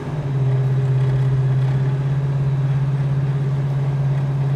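A 1971 Chevrolet Chevelle SS with a big-block engine drones loudly and steadily up close, a sustained low hum holding an even pitch throughout with no pause.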